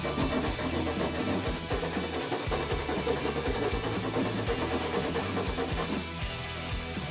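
Sandpaper scuffs the underside of a backup camera housing on a 2010–2024 Toyota 4Runner, a steady, continuous rasping rub of rapid back-and-forth strokes that runs close and fairly loud throughout, easing slightly near the end.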